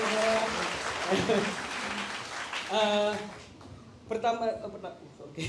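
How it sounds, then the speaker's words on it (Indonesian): Crowd applause fills a church service, with people cheering and shouting over the clapping as it swells and then fades. "Tepuk tangan yang paling meriah buat teman-teman kita ini semua."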